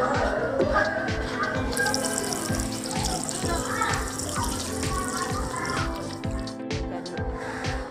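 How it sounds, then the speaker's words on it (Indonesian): Water runs steadily from a washbasin tap beside a historical mural wall in Blitar, a continuous close splashing stream with faint voices in the background. "jadi di sini disediain wastafel juga tuh"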